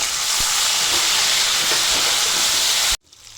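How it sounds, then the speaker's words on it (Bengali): Chopped tomato dropped into hot oil while making a pabda fish curry, a loud dense sizzling hiss with a few crackles that cuts off abruptly near the end, leaving near silence. "তেলের মধ্যে টমেটো কুচি দিয়ে দিচ্ছি"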